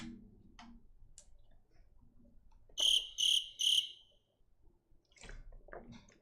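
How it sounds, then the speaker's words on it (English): A crickets chirping sound effect gives three quick, bright chirps in a row against an otherwise hushed background with only faint low rustling around them. "It's crickets."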